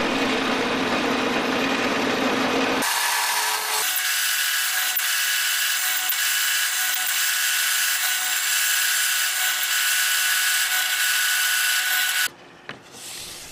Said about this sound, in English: With a 1/4 inch drill bit, I drill a hole at every mark using a really basic fence to keep them all centered.